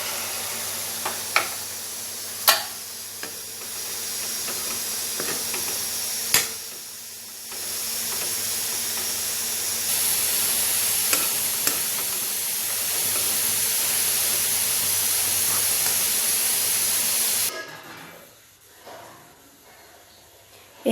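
Banana flower and potato curry hisses and steams steadily in the pan after a little water goes in, a long broad sizzle with a few sharp clanks of a utensil, ending abruptly as the heat dies down.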